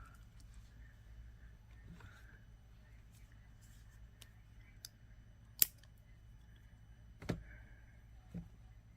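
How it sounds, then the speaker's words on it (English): Wire cutters snip beading wire while a heishi turquoise pendant necklace is repaired: two or three sharp, close clicks spaced a few seconds apart over a steady low hum. "So let's cut the wire here."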